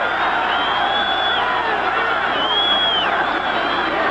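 A capacity crowd of 64,000 at a 1980 Monday night football game between the Tampa Bay Buccaneers and Chicago Bears, chanting as one, a loud sustained roar with whoops and whistles rising above it and a commentator talking over it.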